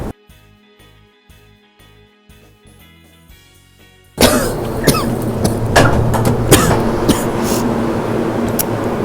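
Sudden coughing and throat clearing on a Montréal downtown street outing, a few loud close bursts over busy outdoor ambience after a quiet musical opening.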